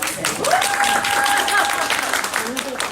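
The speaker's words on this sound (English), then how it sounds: "Everybody give a round of applause to David." Applause from an audience at a women's small business forum, a steady patter of clapping running throughout, with a voice and a sustained tone rising above it midway.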